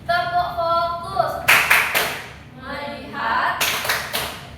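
An elementary classroom of pupils performs the rhythmic 'tepuk fokus' clapping game. Children chant in unison, broken by two sharp bursts of several quick, close hand claps.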